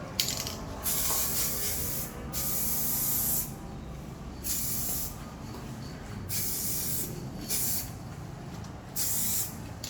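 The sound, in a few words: aerosol spray paint can spraying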